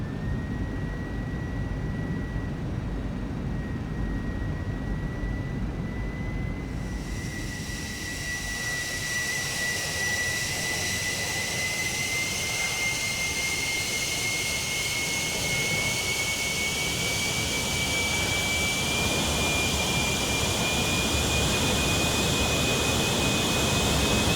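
Jet engine of an SC Designs F-16 Fighting Falcon in Microsoft Flight Simulator, a continuous loud roar with a high whine that slowly rises in pitch as thrust builds, heard alone for the whole stretch.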